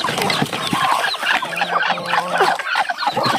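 Chickens cluck and murmur nearby in a noisy yard, with a steady stream of low, throaty calls and scattered squawks.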